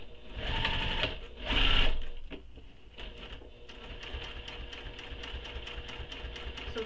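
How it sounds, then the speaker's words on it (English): A sewing machine top stitches along the edge of a tote bag, with two short loud bursts followed by a quieter, steady rhythmic stitching with no voices. "So top stitch all along that edge"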